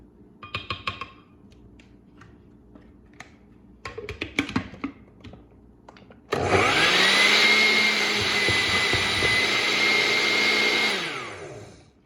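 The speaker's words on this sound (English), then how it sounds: "If your blender is stuck like mine, just grab a wooden spoon and stir it up" A kitchen blender loaded with pineapple chunks roars on abruptly after a few scattered clinks and knocks, running as a loud, steady whir for about five seconds before winding down.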